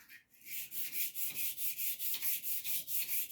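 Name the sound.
removing a burr from a blade on a sharpening stone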